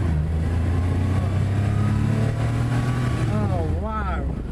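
A 1986 Porsche 911 Carrera Cabriolet engine drones and revs while driving with the top down, a steady loud mechanical growl that climbs near the end as revs rise and fall.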